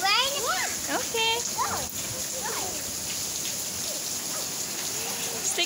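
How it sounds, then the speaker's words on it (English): Steady rain patters on a surface throughout, with children's high voices chattering and calling over it as they play in the rain. "do you want to play in the rain?"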